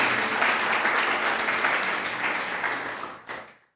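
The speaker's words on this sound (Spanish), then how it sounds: "le damos un aplauso a nuestro Señor Jesucristo por estos 2 años" Church congregation applauding during a service, a full, continuous burst of many hands clapping together, fairly close and even, fading out abruptly at the end with no speech over it.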